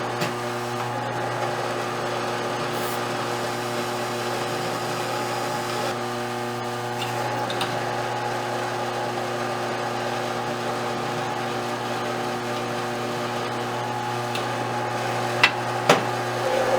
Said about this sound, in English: now I'm just using a larger drill bit to clear out the holes